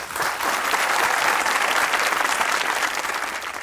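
A burst of loud, dense applause from a comedy show audience, sustained and steady for a few seconds before tapering slightly.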